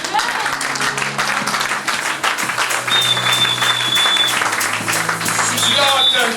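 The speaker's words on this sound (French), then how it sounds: "Est-ce qu'on peut acclamer ça?" Church congregation applauding: sustained, dense clapping from a large crowd at close range, with cheers and voices mixed in throughout.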